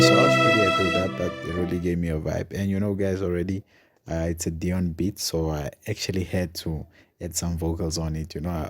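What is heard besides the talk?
None of the usual background noises is heard.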